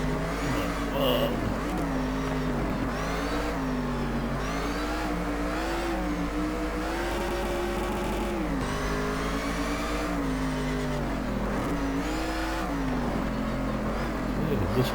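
Race car engine in the GT Legends driving game, revving steadily and continuously with rising and falling pitch through gear changes, loud and up front for the whole stretch, with occasional talk over it.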